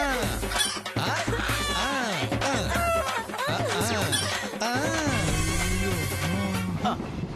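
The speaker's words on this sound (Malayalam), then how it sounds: "ഈ ഒരു കോഴിക്ക് വേണ്ടിയായിരുന്നു ഇത്രയൊക്കെ" A domestic hen or rooster crows and clucks loudly and close, with repeated rising and falling calls and bursts of clucking over a low steady rumble.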